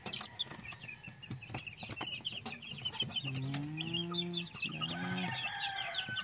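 Two- to three-week-old Golden Boy and Sweater chicks chirp and peep in a busy flock, joined by louder clucks and a short crowing attempt. A person says a single word amid the birds.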